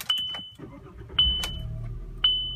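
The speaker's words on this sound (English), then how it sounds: "I'm going to start it up for you so you can hear the engine." A 2006 VW Beetle with a 2.5-liter five-cylinder engine gives several short, high warning chimes. The engine then cranks and catches, settling into a low, smooth idle rumble that continues beneath the intermittent chimes.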